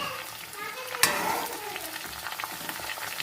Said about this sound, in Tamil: நல்லா எண்ணெயில் காயை போட்டாச்சுங்க போட்டு நல்லா வதக்கிக்கிறோம்